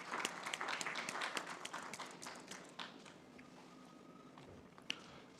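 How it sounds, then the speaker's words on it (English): Audience applause rings out for a panelist introduction at a higher-education panel discussion, starting full and fading gradually into sparse scattered claps. "Big round of applause, please."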